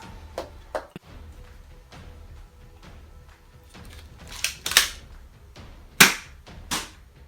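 A Chinese Nerf-compatible knock-off blaster makes a series of sharp pops and clacks as it is primed and fires darts. Two louder, close snaps stand out among quieter handling clicks, with no talking.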